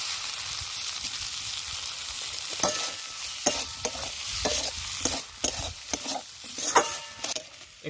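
Spice masala for chicken biryani fries in a pan as tomatoes go in, giving a steady close sizzle with repeated sharp stirring scrapes and knocks, no voices.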